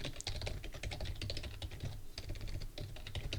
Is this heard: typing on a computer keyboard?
yes